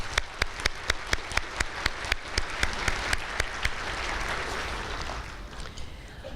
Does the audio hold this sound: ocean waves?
no